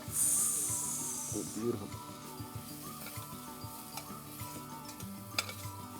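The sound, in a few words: ingredients sizzling in hot oil in a pan for Thai red curry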